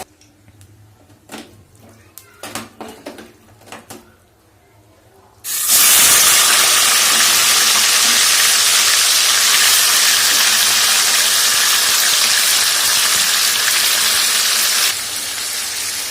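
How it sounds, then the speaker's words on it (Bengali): Meat hits hot oil in a pan, bursting into a loud, continuous hiss and sizzle that holds steady for about ten seconds and then eases slightly, after a few quiet clinks and handling noises. "এই তেলেই মাংসটা ভেজে নেব"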